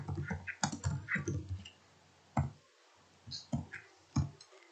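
Keys clatter on a computer keyboard as program code is typed into Delphi 7, in close, irregular bursts of clicks with short pauses between them and no talking.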